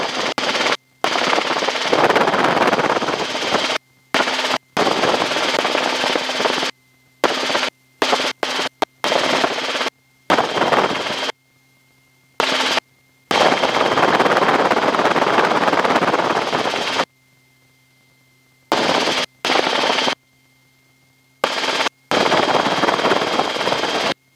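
A helicopter descends to land, its rotor chop a loud, rapid, steady pulse heard in repeated bursts broken by abrupt silent gaps.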